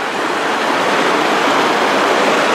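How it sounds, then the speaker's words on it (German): Roaring waterfall in a green valley in Norway, heard up close from its outflow as a loud, dense, continuous rush of falling water with no pauses. "mittlerweile stehe ich in diesem Auslauf von dem Wasserfall und gehe jetzt hier im Grunde im Wasserfall hoch."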